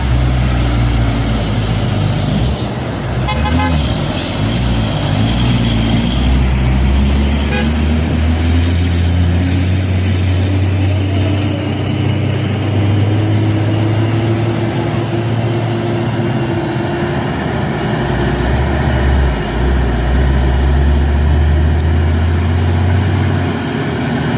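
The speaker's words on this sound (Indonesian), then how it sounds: "Nissan diesel ya, trailer." Loud, steady low diesel drone of a Nissan Diesel trailer truck labouring up a hill, with a slowly rising engine tone and faint metallic rattles, continuous throughout with no talk.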